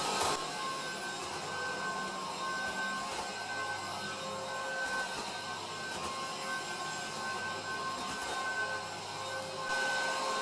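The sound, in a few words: Cecotec Conga 7090AI robot vacuum cleaning in parallel lines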